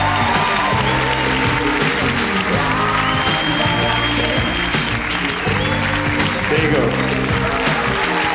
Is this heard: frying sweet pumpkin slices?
no